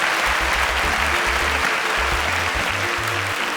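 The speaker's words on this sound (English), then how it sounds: "A round of applause for Jemima." Steady, dense applause from an audience at an African STEM challenge event after a contestant's score is announced, a continuous wash of clapping with low-pitched tonal sounds underneath throughout.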